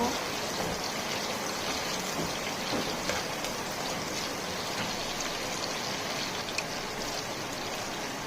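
Green chilies being stir-fried with noodles in a pan, a dense continuous hiss of frying oil, steady and close with faint occasional scrapes.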